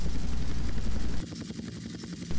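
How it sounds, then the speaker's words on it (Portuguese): A helicopter armed with a machine gun and missiles in GTA Vice City thrums with a rapid rotor chop, loud at first, then dropping to a fainter, pulsing whir before swelling again. "Aí eu vejo um helicóptero muito bom, tem metralhadora, tem os mísseis"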